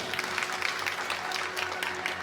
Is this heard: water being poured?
no